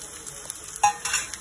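Corn and peanuts roasting in a pan for quinoa veg pulao crackle softly, with a spatula scraping and a few light clinks, including a brief sharper scrape near the middle.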